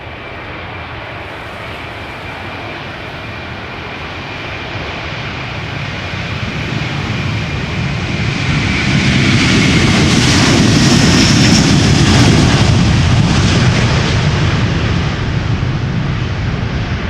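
A 21-year-old Delta Air Lines Airbus A330 roars past on takeoff from Schiphol's Polderbaan, its loud engine rumble swelling to a powerful peak then holding, with a whining tone underneath.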